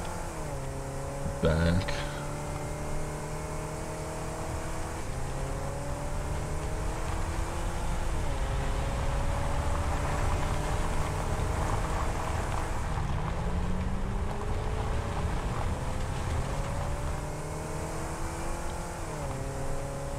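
A driven vehicle in the game Satisfactory hums with a steady engine drone whose pitch climbs and drops as it accelerates and shifts, running continuously throughout, with a brief clunk early on and a voice talking over it.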